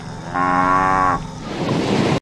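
Cattle in Brazil, home of the world's largest cattle industry, give a single loud, close moo lasting under a second, followed by rough outdoor rumble and no voices.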